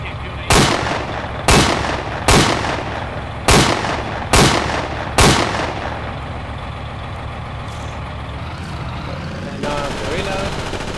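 Mortar rounds fired in a military video game, Project Reality map Adak: five loud, sharp booms in a steady sequence, each with a rumbling tail, over continuous battlefield noise.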